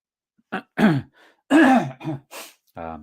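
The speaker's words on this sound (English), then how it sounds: "I'm always going to be coughing." A few throaty coughs and throat-clearing bursts, close and fairly loud, separated by short pauses, ending in a voiced groan-like sound.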